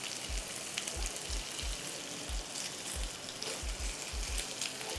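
Bacon frying in a pan on medium-high heat, a steady close crackle and sizzle with scattered pops and low soft thumps throughout, no talking.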